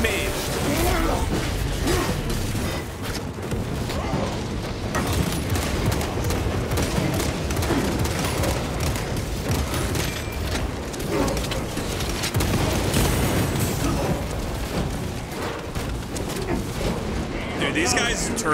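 Turret gunfire in Warhammer 40K Space Marine 2 roars in a sustained, dense barrage of rapid mechanical shots, loud and continuous throughout, mixed with game effects.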